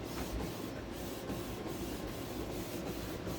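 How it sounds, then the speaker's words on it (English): A Canon touchscreen printer runs a print job for a graduation chip bag, giving a continuous mechanical whir with faint rhythmic dips as the paper feeds through, heard close with no talk. "it's printing from here"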